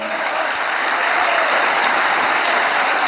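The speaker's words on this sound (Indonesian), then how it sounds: "Tepuk tangan buat Mas Jarot." Dense, steady applause from a religious gathering's congregation at a Gus Iqdam assembly, loud and continuous for the whole stretch with no talk over it.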